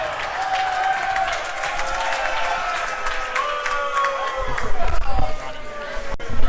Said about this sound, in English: There goes the cheering people once again.